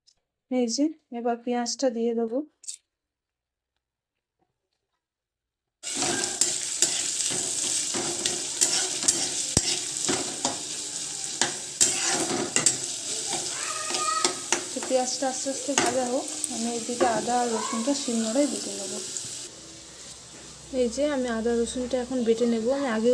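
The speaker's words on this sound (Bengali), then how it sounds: "পেঁয়াজটা ভালো মতো ভাজা হয়ে গেছে" Onion frying in oil in a pan after a tempering of whole cumin and a dried chilli, steady sizzle with stirring scrapes for most of the stretch, preceded by a short bit of talk and a silent gap.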